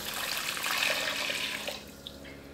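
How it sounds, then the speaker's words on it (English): About three cups of water poured into a pot, a loud steady rushing splash for under two seconds that then stops abruptly, leaving quiet kitchen background with a faint clink. "let's add our water. I've got about 3 cups of water."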